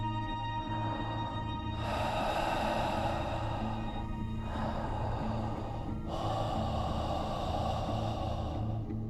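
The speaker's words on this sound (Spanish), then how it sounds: "Una especie de respiración lenta." Slow, heavy breathing sounds as a horror-story effect: three long drawn breaths, rising and fading in a steady rhythm over a low, constant background drone.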